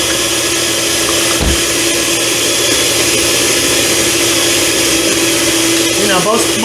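An electric mixer on high creams butter and sugar in a bowl for carrot cake, a loud, steady motor whine with grinding underneath and faint voices.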